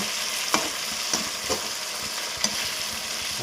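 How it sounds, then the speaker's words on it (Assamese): Chicken pieces coated in masala fry in an old kadai for a village-style chicken gravy, a steady close sizzle broken by several sharp scraping knocks as the meat is stirred. "আমি এতিয়া মাংসটো আৰু এবাৰ লৰাই দিম। আমি ইয়াত ভালদৰে ইয়াতে ফ্ৰাই কৰি ল'ব লাগিব।"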